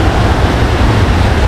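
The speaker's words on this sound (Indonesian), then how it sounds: "Ini teman-teman ya, air terjunnya itu, wih keren." Curug Papat waterfall in Rejang, Bengkulu roars as a steady, loud broadband rush of falling water that stays close and unbroken throughout, with no voices.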